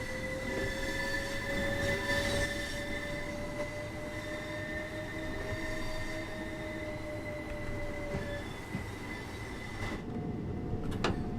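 Train running on the East Coastway route in Train Sim World 2, a steady rail rumble with long, drawn-out wheel squeal tones and a short rattle near the end, without speech.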